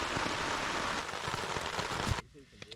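Light rain patters steadily on surfaces in an outdoor children's park, close and dense, then cuts off abruptly, leaving quieter outdoor sounds.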